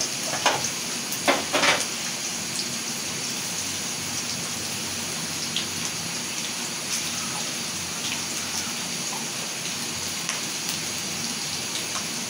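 Onions fry in hot oil in a wok over a low gas flame, giving a steady, even sizzle throughout, with a few sharper crackles near the start.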